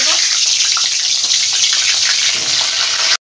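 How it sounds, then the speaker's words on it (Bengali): Sliced pointed gourd frying in hot mustard oil in a wok, a loud, steady sizzle and crackle that holds close and continuous throughout, then cuts off abruptly at the end. "তেল গরম হয়ে গেছে, পটলগুলো দিয়ে দেব"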